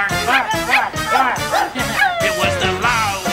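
A small dog yips and barks repeatedly in quick, high-pitched bursts with whimpering tones, loud and close, with voices mixed in alongside the barking.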